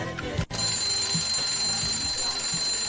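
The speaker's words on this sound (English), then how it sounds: "Oh, what's that? Alarm clock." An alarm clock rings within a played track, a steady high electronic beeping tone running through the music with a brief dropout near the start.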